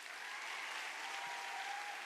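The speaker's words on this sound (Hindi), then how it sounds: "और ताली बजाओ बढ़िया से।" Audience applause at a network marketing training session, a dense, even clapping from a crowd held steady at moderate loudness for about two seconds without talk.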